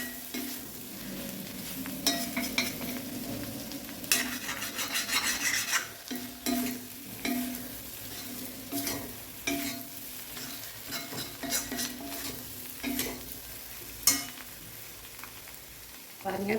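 Potatoes for a Tamil-style potato poriyal fry in a pan over low heat, a steady sizzle broken by repeated scraping stirs of a spatula, close and fairly quiet, with no talk.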